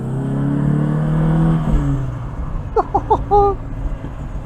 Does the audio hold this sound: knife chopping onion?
no